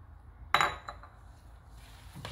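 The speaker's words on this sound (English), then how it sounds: "I'm just gonna mix this right in" A utensil strikes a bowl while ingredients such as sugar, ginger, chili, onions and garlic are mixed: one sharp clink, a lighter tap after it, then another knock, heard close in an otherwise quiet kitchen.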